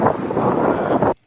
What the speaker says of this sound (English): Sounds windy.